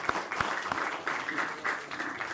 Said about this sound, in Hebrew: נתן מגיע לך כפיים, גם לחתונה וגם לזמן שיעור, מכולנו